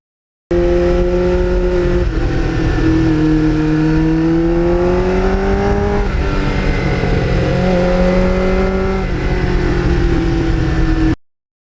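A 1989 Kawasaki GPX750R Ninja motorcycle engine revs up steadily and loud, its pitch climbing and dropping at each gear change, with several shifts over a sustained, close drone.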